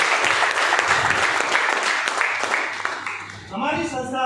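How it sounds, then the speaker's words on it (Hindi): Loud crowd applause for five directors at a business training session, a dense steady roar of many hands that fades near the end. "मैं चाहता हूँ इन 5 डायरेक्टर के लिए जोरदार तालियां।"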